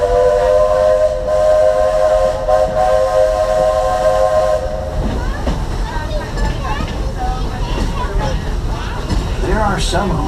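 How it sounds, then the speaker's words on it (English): A steam locomotive on the Walt Disney World Railroad at Magic Kingdom blows a loud, steady whistle for several seconds, then steam hisses and chuffs amid crowd chatter and a voice speaking. "There are some who say that this steam train is a little old-fashioned, but for me, it's the only way to travel"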